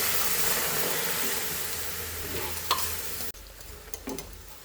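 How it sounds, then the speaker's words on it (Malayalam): Asafoetida water poured into hot oil for a garlic pickle gives a loud, continuous sizzle that drops off abruptly partway through, leaving a softer crackle with a few sharp pops. "അപ്പോൾ കായത്തിൻ്റെ വെള്ളം ഒഴിച്ചു കൊടുത്തിട്ടുണ്ട്."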